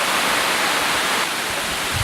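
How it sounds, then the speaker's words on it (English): A nearby waterfall roars as a constant, dense rush of white water, loud and unbroken throughout on a steep forest trail, with no voices over it. "I hear the waterfall."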